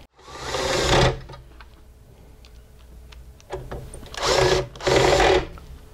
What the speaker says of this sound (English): slide it in, and put the screws back in.